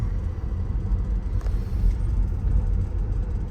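Steady low road rumble and tire noise from inside a Tesla Model X Plaid electric SUV while driving, a continuous muffled drone with no engine note and no one talking.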